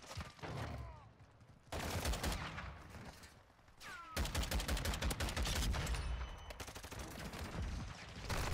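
Rapid bursts of battle rifle fire in Modern Warfare 2 crack out in dense clusters, loud and close, with short pauses between volleys and faint distant shots behind them.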